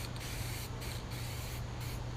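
Continuous hissing spray of primer from an aerosol can held close, on a 1966 Ford Galaxie 500 convertible under restoration, with a steady low hum behind it and slight dips as the nozzle moves.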